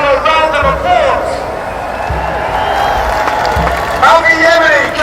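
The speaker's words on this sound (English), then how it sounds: "Let's give them another round of applause." Crowd at an anti-lockdown protest in Trafalgar Square, London, clapping and cheering in a steady outdoor wash of sound, with voices and an amplified speaker over it.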